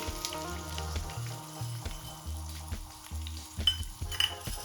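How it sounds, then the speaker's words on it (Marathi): Dry spices for an egg curry being roasted in a pan over a low flame, with garlic, ginger, roasted coconut, roasted onion, roasted millet and chana dal. A soft, steady sizzle runs beneath repeated scraping and stirring strokes, with no talking. "आता हे सर्व साहित्य व्यवस्थित भाजून घेऊया गॅसची फ्लेम लो ठेवलेली आहे"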